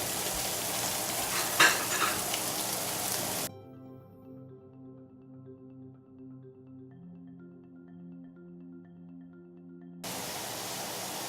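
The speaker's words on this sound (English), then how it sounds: "right in the same pan with the same fat left over from the sausage and the hamburger, I'm going to put one sweet onion" Sweet onion frying in leftover sausage and hamburger fat, a loud dense sizzle up close that breaks off into a quiet musical passage before the sizzle returns.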